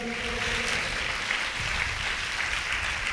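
A church congregation claps together in praise, a continuous, moderately loud patter of many hands heard from within the room, with no talk over it.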